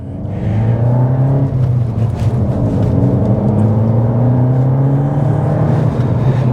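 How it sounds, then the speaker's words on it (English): Volkswagen Scirocco engine droning under load with a thin rising turbo whine layered over it, steady and close, no voices. "you can hear the little turbo whine"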